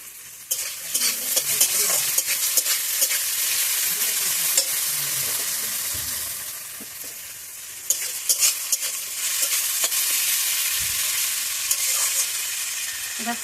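Potatoes fry and are stirred in a pan with salt and turmeric, a steady bright sizzle broken by repeated scraping strokes of the spoon, close and fairly loud with no voices.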